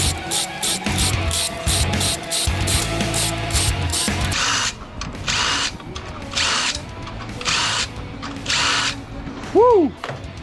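A power drill backs screws out of electrical gear and breakers, whirring in repeated close, loud bursts with short pauses between them, while a clattering noise plays underneath.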